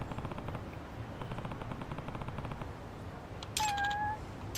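A cat meows in the video game Lost Judgment amid a steady stream of rapid game background sound, with a brief brighter, higher cry near the end standing out over the rest.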